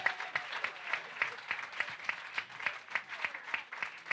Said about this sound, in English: Big round of applause for Albi.